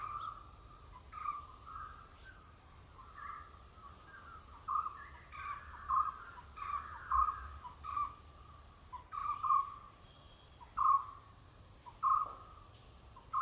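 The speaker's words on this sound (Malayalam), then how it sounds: "കുറേ വെറൈറ്റി കിളികൾ വരുന്നുണ്ട് കേട്ടോ." Birds call in a Kerala sacred grove, a repeated series of hooting and chirping calls at an uneven rhythm, moderately distant and fairly quiet, over a faint steady insect hum with no talking.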